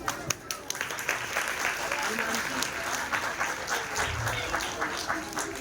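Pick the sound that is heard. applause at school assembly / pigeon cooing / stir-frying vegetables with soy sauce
applause at school assembly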